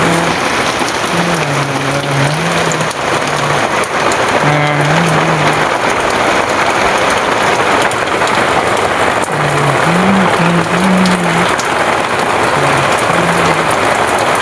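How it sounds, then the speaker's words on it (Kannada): Steady rain falls outdoors, a dense continuous hiss of drops on surfaces that holds at the same loud level throughout, with faint low tones drifting in the background. "ನೋಡಿ ಇಲ್ಲಿ ಹೊರಗೆ ಮಳೆ ಬರತೈತಿ ನೋಡಿ"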